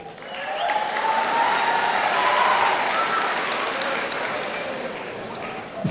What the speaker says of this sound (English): It's nice for you to applaud him today